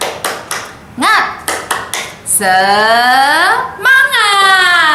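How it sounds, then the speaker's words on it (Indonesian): Children at a Sunday school do a rhythmic spirit clap: a short patterned sequence of sharp, close hand claps, then loud, drawn-out group shouts, ending with another burst of voices. "Kita tepuk semangat dulu ya. Tepuk semangat."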